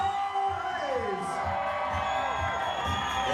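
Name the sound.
wedding guests cheering and whooping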